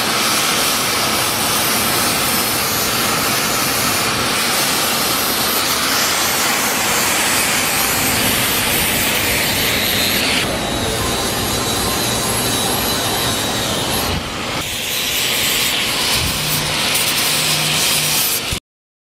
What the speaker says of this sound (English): I have a wheel on the drill for the heavy rust, and I'm gonna take a wire wheel to the lighter rust